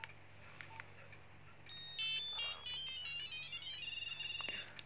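A Nokia 5110 mobile phone, running on a weak battery, plays its ringtone number 11 as a clear electronic melody of bright beeping tones that starts partway in and carries on steadily to the end, close and alone.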